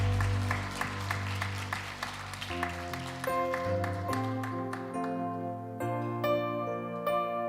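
A church congregation claps together during a Wednesday evening worship service, the dense applause filling the first few seconds before instrumental worship music takes over.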